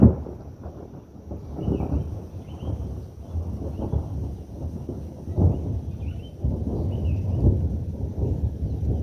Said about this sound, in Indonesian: datang petir teman-teman